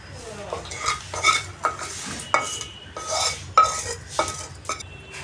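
Tamarind rice being stirred together with its tempering in a pan, a metal spoon scraping and clinking against the pan in repeated uneven strokes, close and fairly loud with no voices.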